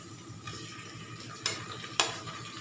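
Chopped onion going into a pan for chicken kacchi pulao, with a soft steady sizzle, stirring and a couple of sharp scraping clinks of a utensil against the pan.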